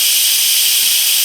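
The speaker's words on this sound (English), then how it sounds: "So we're releasing the steam now before you can open the pot." Loud, steady hiss of steam venting from an Instant Pot pressure cooker holding soup, a continuous close-up rush without a break.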